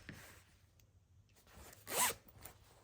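A single quick zip as a zipper is pulled along a quilted, lined fabric pouch, preceded by faint rustling and soft handling sounds.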